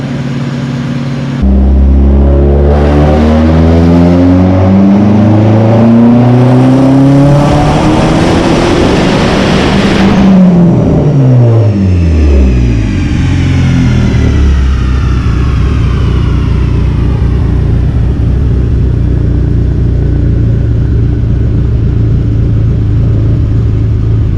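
A Dodge SRT-4 with a big turbo upgrade running on a dyno, the engine loud and close as it climbs through a long full-throttle pull with rising pitch, then drops off and settles back to a lower drone.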